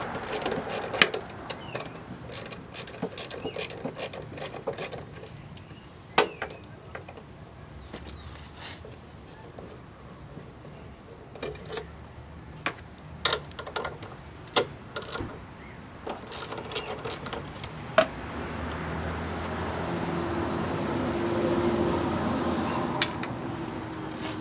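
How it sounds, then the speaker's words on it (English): Bolts on the lower air box are removed with a 10mm socket and ratchet, producing repeated sharp ratchet clicks and metallic clinks in irregular bursts, close by, with a steadier background noise rising toward the end. "now we're going to start to remove the lower portion of the air box with a 10mm"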